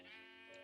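A sheep bleats in a farm setting in a video game, a single drawn-out, close and fairly loud harmonic cry lasting under a second and heard alone.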